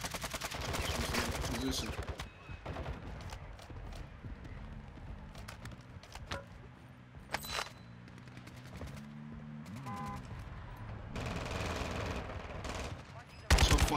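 Rapid gunfire rattles throughout a first-person shooter match with an MP5, dense automatic bursts and scattered single shots coming at the player, loud and continuous with a few brief in-game voice lines.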